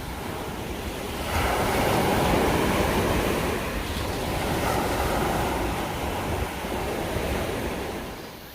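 Waves crashing at Jeongan beach on the East Sea coast, a continuous roaring surf with swelling surges and wind buffeting the microphone, no voices.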